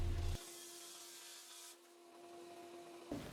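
Wood being sanded by hand in a workshop makes a soft, steady rubbing rasp, quiet and close. A brief louder scrape at the start and a faint bump at the end frame it, with no talking.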